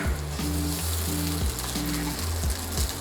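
Shrimp land in a hot oiled pan and sizzle loudly and continuously up close, a dense hissing crackle, while a low periodic tonal hum sounds underneath.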